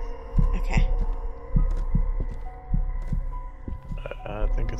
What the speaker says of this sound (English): I have a heartbeat.